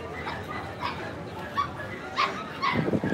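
Dogs yip and whimper in short bursts at an outdoor puppy market's Dog Alley in Canton, Texas, mixed into a busy background of crowd chatter and talk.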